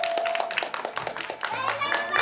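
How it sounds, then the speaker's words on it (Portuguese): A crowd at a birthday celebration claps for a couple, a quick sharp patter of hands with voices talking and cheering over it. "Uma salva de palmas, pessoal!"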